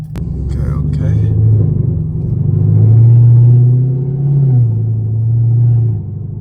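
A 6th-generation Chevrolet Camaro SS engine rumbles steadily and loudly from close by while driving, its deep drone swelling slightly midway and then easing off.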